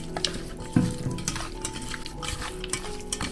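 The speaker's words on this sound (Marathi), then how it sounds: "आपण आता हे व्यवस्थित आपल्याला मिक्स करून घ्यायचं आहे चांगले मॅरिनेट करून घ्यायचं आहे आपल्याला" Chicken pieces being mixed by hand with salt to marinate for a pressure-cooker popati: soft, close scraping and squelching stir sounds with a few faint clinks, quiet, with no voices.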